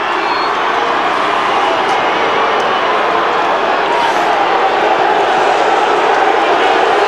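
Big Australian football crowd at a 1995 AFL match between Carlton and West Coast Eagles, a dense, loud sustained roar filling the stadium with no break.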